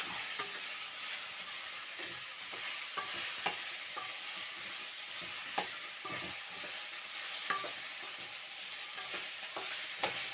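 Okra pieces sizzle steadily in hot oil in a pan, with a dense continuous hiss broken by repeated scraping clicks of a spatula as they are stirred; no voices.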